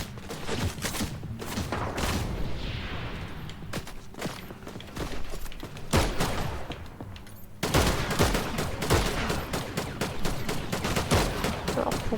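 Video game gunfire crackles in rapid bursts and single shots during a fight against a squid, loud and continuous across the scene with short gaps between volleys.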